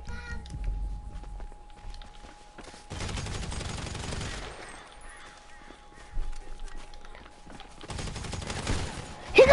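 Pistol gunfire in a shooting video game, heard as rapid bursts of shots mixed with game effects and other noise, with loud clusters near the start and again near the end.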